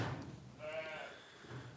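A sheep bleats once in a lambing shed, a wavering mid-pitched call heard close but fairly quiet over low shuffling background noise.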